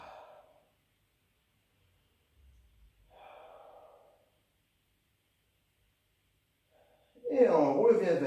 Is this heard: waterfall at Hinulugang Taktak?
no